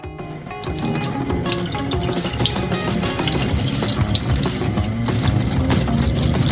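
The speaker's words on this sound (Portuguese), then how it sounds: "Para que ele funcionasse, precisamos enchê-lo com água fria." Cold water gushes steadily from a tap into a glass jar, a close, continuous rushing pour with no pauses and no voices.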